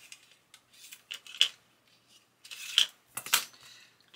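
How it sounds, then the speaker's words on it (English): Scissors snip through paper in a few short, crisp cuts, with small clicks and rustles between them, close and quiet. "cut a piece of paper"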